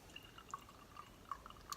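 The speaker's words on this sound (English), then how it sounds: "Let's have another little pour here." Brett-fermented BrewDog Overworks Funk x Punk IPA is poured into a glass, giving a faint, quiet liquid trickle dotted with several small drip-like plinks, without any talking.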